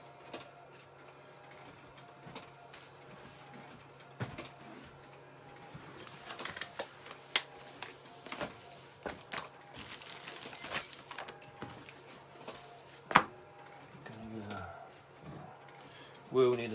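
A sublimation printer works on a neoprene laptop cover, its head shuttling in quiet, irregular clicks and mechanical taps with a low steady hum underneath.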